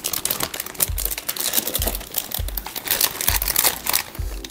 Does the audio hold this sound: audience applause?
no